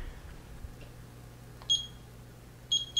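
A stove timer is set while pressure-cooked brown rice simmers, giving a few short, clear electronic beeps over a faint low hum, with a couple of soft clicks in between.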